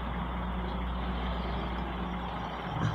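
Busy road traffic near a cemetery, with heavy trucks rumbling in a steady low drone and a faint reversing beep or air-brake hiss near the end, continuous and fairly close.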